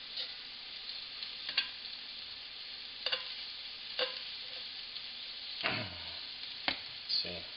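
Bacon bourbon meatballs sizzle steadily in an oiled pan, a close, continuous hiss broken by scattered clicks and scrapes as they are turned, with no talk over it.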